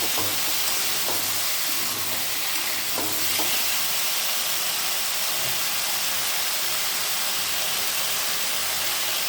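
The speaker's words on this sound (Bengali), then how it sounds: "এইভাবে পাঁচ মিনিট মতো ভেজে নিতে হবে" Pieces of taro sizzle and crackle in hot oil with a steady hiss, a few soft stirring clicks near the start.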